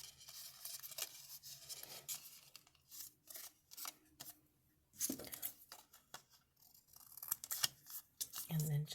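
Scissors snip off excess paper during journal-kit papercraft, giving several close, crisp cuts and rustles scattered through the stretch between pauses, with soft speech at times.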